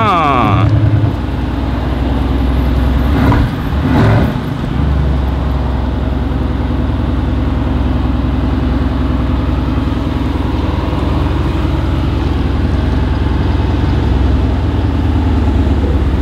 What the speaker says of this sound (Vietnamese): Bây giờ sẽ bắt đầu nổ máy lên nghe cái tiếng bô